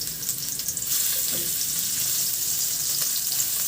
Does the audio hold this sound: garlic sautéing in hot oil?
yes